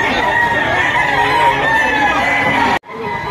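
Chickens and roosters at a poultry auction in Lipa, a dense, loud chorus of overlapping crowing and clucking filling the space steadily, cut by a brief dropout near the end before the crowd of birds resumes.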